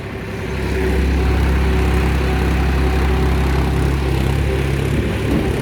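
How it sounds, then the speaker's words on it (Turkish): A blue tractor engine runs in a Turkish village, rising in the first second into a loud, steady low rumble with a constant droning hum that holds unchanged to the end. "Şu an bizim mavi traktör de burada şu anda yapılıyor."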